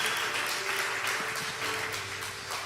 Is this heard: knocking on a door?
no